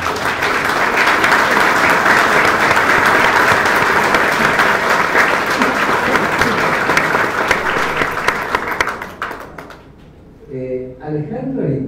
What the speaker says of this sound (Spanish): Yo les voy a pedir un aplauso para ellos.